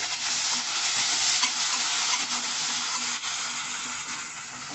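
Chopped onion, green chilli and curry leaves fry in a pan for a prawn and cluster bean curry, giving a loud, continuous bright sizzle with faint stirring and no voices.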